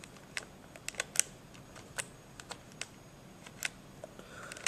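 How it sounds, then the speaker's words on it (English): Sharp, crisp clicks from the fire selector of a Dboys MK16 SCAR-L airsoft gun being switched between safety, semi and full auto, a series of quick separate clicks close by in a quiet room. "It's a nice little click when you change it."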